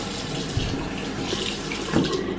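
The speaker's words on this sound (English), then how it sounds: "I'm going to soak it in hot water" Hot tap water runs steadily into a bathroom sink to soak a face cloth during a skincare routine, a close, continuous splashing rush with no talking.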